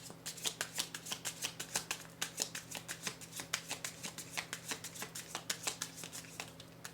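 Tarot cards are shuffled close up in a quick, even rhythm of crisp riffling bursts that repeat steadily throughout, with no talking.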